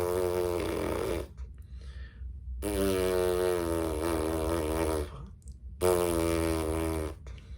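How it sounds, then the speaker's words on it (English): Lips buzzed together like a fart, the embouchure buzz practiced for a brass mouthpiece: three sustained, loud, harmonic-rich buzzes about a second or more each, separated by short silences. "imagine making a farting sound with your lips"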